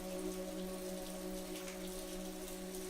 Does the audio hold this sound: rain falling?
yes